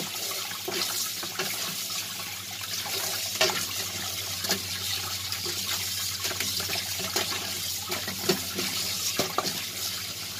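Steady running water pours from a faucet over raw chicken being rinsed for a chicken buffalo dish, a continuous near splashing stream with small bursts of splatter throughout and no voices.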